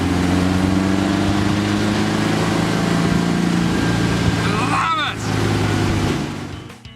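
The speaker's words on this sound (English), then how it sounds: "1600cc engine in this buggy roars when it wants to." A 1600cc beach buggy engine runs loud and close with a throaty, steady drone and rumble out the back, shifting pitch briefly near the end before fading off.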